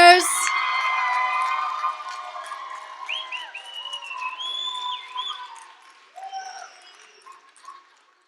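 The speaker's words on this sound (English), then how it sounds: "please give a round of applause to the" Applause and scattered cheers from guests at an evening event honoring the bartenders, loud at first and then thinning into a few claps and whoops, with voices mixed in.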